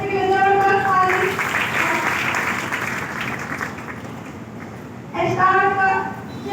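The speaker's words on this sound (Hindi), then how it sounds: "जोरदार ताली, कुंडल के लिए जोरदार ताली।" Hearty applause from a gathered audience, cheering a person named Kundal, fills the middle seconds as a dense wash of clapping, with a voice speaking just before and again as it dies away.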